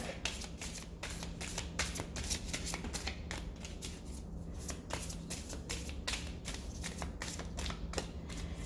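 A deck of cards shuffled repeatedly before a card reading, a steady stream of fast riffling and flicking close by, with no talking.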